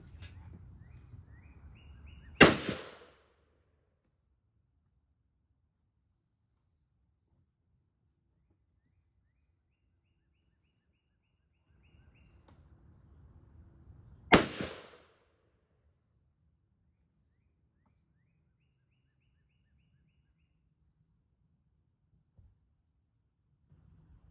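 Two sharp single rifle shots from a 1967 Chinese and 1972 Yugoslavian SKS at an outdoor range, spaced about twelve seconds apart, each loud with a short echoing tail over steady insect buzz and quiet wind.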